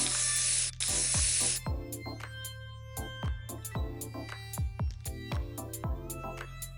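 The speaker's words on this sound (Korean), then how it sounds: "노란색 스프레이 페인트로 칠해줍니다." Yellow spray paint is sprayed onto an empty lotion container. Two long, loud hissing bursts come first, followed by a run of light clicking and tapping.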